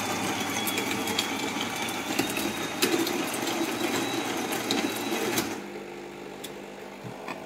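A Krups YY4539FD bean-to-cup coffee machine brews a drink with a steady mechanical hum and rattle at moderate volume. Partway through, the sound drops to a quieter hum with faint clicks.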